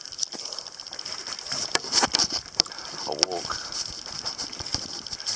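Rain patters steadily on an umbrella overhead at Quinta do Largo, a close, crackling tapping with sharper drips, while a person talks underneath it.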